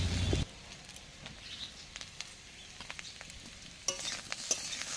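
Small fish are stir-fried with chili powder for a fish and bottle gourd dish, with a soft sizzle under scattered scraping and stirring clicks, close but quiet, and a brief louder burst at the start.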